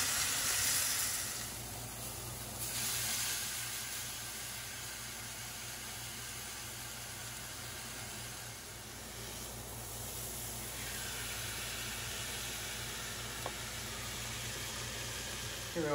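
Taco steak cooks in a hot pan, giving off an unbroken, fairly faint frying hiss that holds evenly for the whole stretch, swelling slightly now and then, with no talking over it.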